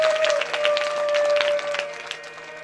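Audience clapping at a Ramayan katha religious gathering, a dense, steady burst of applause lasting nearly three seconds and easing slightly toward the end, with a sustained musical tone beneath.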